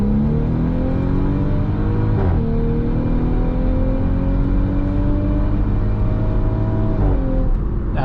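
A 2018 Audi SQ5 accelerates hard on a highway, its engine note climbing steadily through the gears with brief dips at shifts, loud and close from inside the cabin, with no speech.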